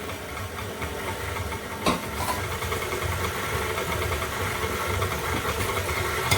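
A stand mixer's paddle beats gluten-free oat and hemp heart bread dough, producing a steady close motor drone with a low churning rumble throughout and a single brief knock near the start.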